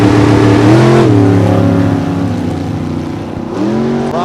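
Dave and Judy Dahlem's 1957 Corvette drag race car, driven by Teddy Barlow, roars loud and close at a drag strip, its engine revving high, dipping, then climbing again in a sustained throaty blare.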